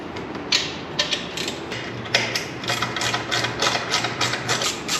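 A ratchet wrench clicks in quick repeated strokes while loosening exhaust bolts on a Harley-Davidson FXLRST motorcycle, a close, steady run of metallic ratcheting with a low hum underneath.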